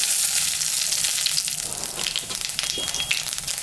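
Dried red chillies and cumin crackle in a little hot oil left from frying fish, a loud close sizzle with fine popping and faint stirring throughout.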